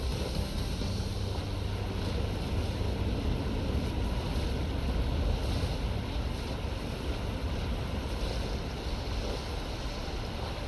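A kayak glides over the water in the London 2012 Olympic Games video game, a steady, even rush of water and wind noise that continues without a break and with no voices.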